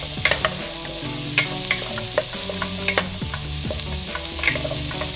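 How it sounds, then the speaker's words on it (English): Chopped onion fries in rendered pork fat while being stirred, giving a continuous close sizzle broken by frequent scraping and tapping of a utensil against the pan. "When the fat is already rendered, add the onion and stir."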